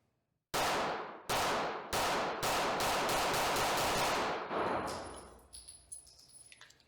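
Pistol shots from a SIG P365 X Macro at a shooting range: about ten sharp, loud reports fired in quick succession, the first few spaced then faster, followed by ringing metallic echoes and clinks as the firing stops.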